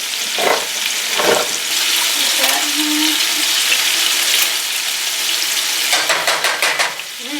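Ground meat frying in a pan for a weeknight chipotle-style bowl, a steady close sizzle with a few scraping stirs and brief clatters, no talking over it.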